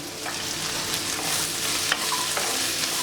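Cabbage chutney with garlic is stirred in a hot pan, a soft continuous sizzle with scraping strokes of the spoon running through it.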